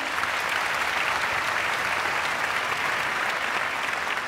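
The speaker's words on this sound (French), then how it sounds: "Vous pouvez l'applaudir." An audience in a concert hall applauds a violinist at a family music performance, a thick, continuous wash of clapping at steady volume from start to finish.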